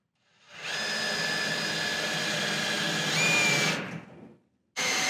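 A power drill whirs steadily for about three seconds, drilling out a rivet on a 1980 Kenworth A model sleeper, its pitch shifting briefly as it bites, then winds down before starting again.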